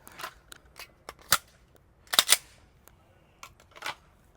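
Glock 34 pistol with iron sights firing a bill drill on a shooting range: a handful of sharp, fairly close reports spread irregularly over a few seconds, with faint clicks and quieter impacts between the louder shots.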